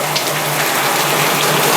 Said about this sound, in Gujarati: ઓચિંતા વરસાદ તૂટી પડ્યો જો